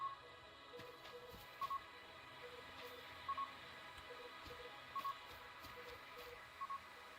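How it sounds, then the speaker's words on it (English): Survey node detector tones in the video game Stars Reach: a short, thin electronic beep repeating roughly every second and a half over a busy game ambience, each ping clear and evenly spaced. "The tones you hear will increase in pitch and frequency as you get closer."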